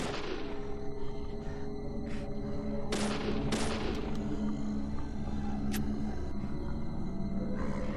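Several sharp gunshots burst out in the video game Deadly Premonition, fired at monsters in short, irregular volleys over a steady low game ambience.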